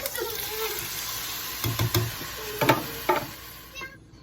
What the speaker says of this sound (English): Once they're nice and toasty, we're going to add the diced tomatoes.